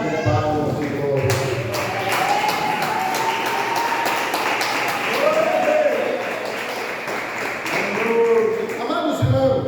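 Worshippers in a church congregation clap along during praise, a steady dense patter of hands filling the room over music and singing voices.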